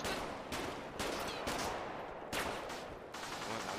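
Gunfire in a GTA roleplay game: about six sharp, loud shots in an irregular sequence, some in quick pairs, with no talking.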